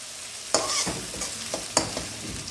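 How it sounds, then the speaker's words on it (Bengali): Chopped onions fry in a pan while a spatula stirs them, giving sharp metallic scrapes at intervals over a soft continuous sizzle, close and clear, with no voices. "এটাকে ভালো করে নাড়াচাড়া করে"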